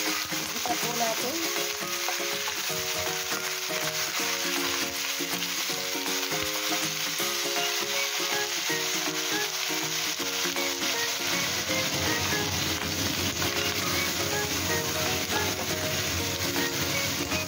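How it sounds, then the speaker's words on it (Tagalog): A chicken head, cleaned and with its comb still attached, fries for adobo in a pan, giving a steady close sizzle with stirring and scraping sounds under faint music. "ilagay na po natin ang ating ulo ng manok"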